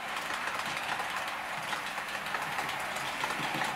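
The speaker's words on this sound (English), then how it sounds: "Locomotive pushing." A Bachmann Class 411 4 CEP four-car EMU model train runs steadily along model track, a continuous close whirring motor hum and wheel rumble with no pauses or voices.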